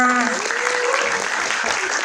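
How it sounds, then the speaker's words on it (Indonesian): Audience applause at a career-success presentation, a short burst of clapping from a small group mixed with voices talking over it. "Boleh dong teman-teman tepuk tangannya."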